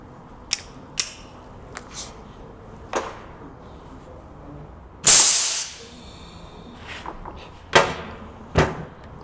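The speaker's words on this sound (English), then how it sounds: "I'm now going to do a hose clean. The reason we do this is to take any particles out of the hose after it was cut." Cleaning pellet fired by air through a freshly cut hydraulic hose, one loud, sharp whoosh of pressurized air lasting about half a second, surrounded by scattered clicks and handling knocks in a quiet workshop.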